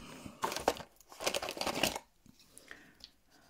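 An eraser rubbed over a paper card during handmade embossed card making: quiet, rapid scratchy rubbing strokes in two short bursts, close to the microphone, then fading to faint handling noises.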